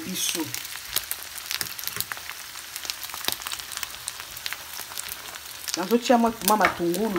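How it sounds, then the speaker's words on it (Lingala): Small ndakala fish fry in hot oil with a continuous crackling sizzle full of sharp pops. A voice talks near the start and again near the end. "ndakala me entre temps ezokalingama na katikati ya mafuta"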